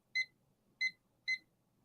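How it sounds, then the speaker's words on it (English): A kitchen timer being set to three minutes gives three short, high beeps, evenly spaced about half a second apart, crisp and fairly quiet against a faint background. "So we're going to set our timer now for 3 minutes."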